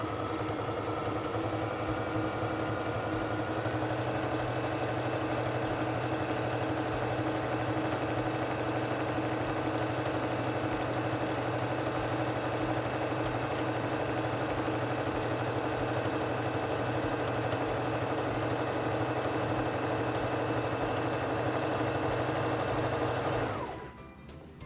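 A Singer Fashion Mate 3342 sewing machine runs a feather stitch in one steady, close mechanical hum with a faint rhythmic needle patter, holding level for about 24 seconds before stopping abruptly.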